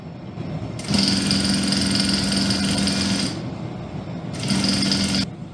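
A sewing machine stitches a securing seam to hold patchwork fabric in place, running in two steady whirring bursts with a brief pause between, loud and close with no talk.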